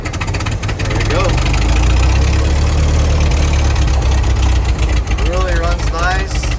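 A 1927 Ford Model T Tudor sedan engine idles steadily with a low, continuous rumble throughout, while someone talks over it near the car.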